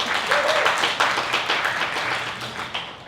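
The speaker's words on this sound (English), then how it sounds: "Can we give a round of applause for our author?" Audience at a book festival author talk claps for the author, a short burst of many hands clapping at close range that tapers off slightly toward the end.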